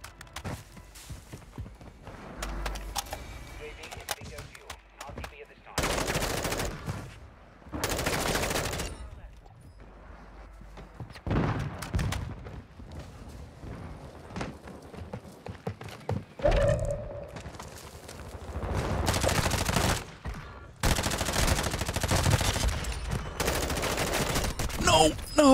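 M4 rifle bursts in the video game Warzone 2, loud rapid automatic fire in several separate volleys with quiet gaps, thuds and steps between, and brief talk.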